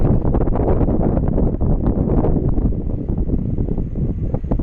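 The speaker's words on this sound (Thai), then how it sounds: "ตรงนี้ลมจะแรงมากเลยนะครับ เพราะว่าตัว เครื่องเจ็ตเขาจะแบบว่าพ่นลมมา ดันลมมาทางด้านหลัง" A strong, continuous roar of wind from jet aircraft engine blast sweeps over Mai Khao beach in Phuket near the runway, loud and buffeting the microphone throughout.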